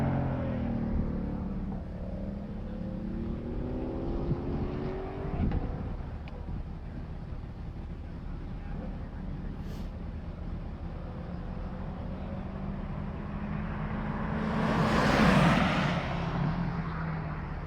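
Race cars, including a Shelby and a BMW, run laps of the Gingerman track, their engines droning steadily at a distance with wind buffeting the microphone and a louder car sweeping past near the end.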